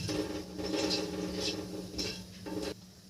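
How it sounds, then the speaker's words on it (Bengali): Panch phoron seeds hit hot mustard oil in a wok and give a soft, crackling sizzle with irregular pops and spits over about three seconds. No one speaks. "এবার কড়াইতে হাফ টেবিল চামচ 5 ফোড়ন দিয়ে দিলাম।"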